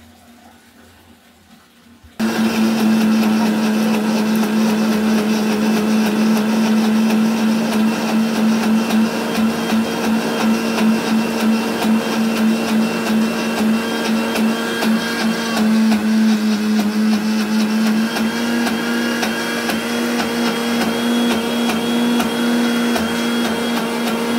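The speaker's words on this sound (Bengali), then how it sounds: "তারপর মিক্সি মেশিনে এগুলো ঘুরিয়ে নেব" A mixer grinder whirs loudly as it grinds soaked kalai dal and aatop rice into batter, starting abruptly after a quiet moment and then running as a steady, droning motor whine with a slight shift in pitch partway through.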